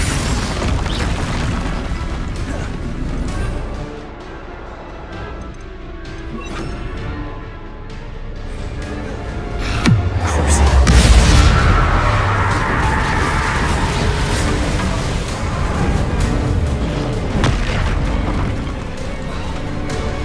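Heavy magical blast from the Bombarda spell in Hogwarts Legacy, a deep booming explosion swelling around the middle amid continuous dense game combat noise, loud and sustained with rumbling low end.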